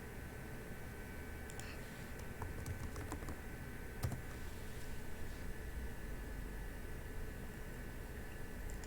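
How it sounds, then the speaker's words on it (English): Faint, quiet keystrokes on a computer keyboard, a scattered run of light clicks over a steady background hiss, heard alone. "So let's just type it."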